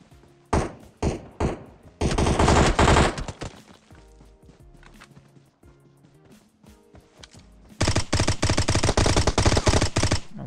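M16 assault rifle firing in the PUBG Mobile video game: a few quick single shots, then a sustained burst of automatic fire, more scattered game sounds, and a final long, loud automatic burst.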